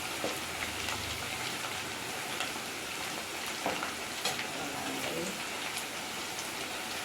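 Chicken pakoda frying in hot oil gives a dense, continuous bubbling sizzle with scattered crisp pops, close and steady from start to finish.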